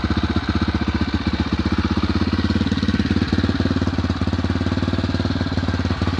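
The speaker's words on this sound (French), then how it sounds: "Elle a l'air de vouloir tenir le ralenti" An air-cooled 125cc motorcycle engine idles with a rapid, even, chugging pulse, close and loud, with a few brief hitches in the rhythm and no talking.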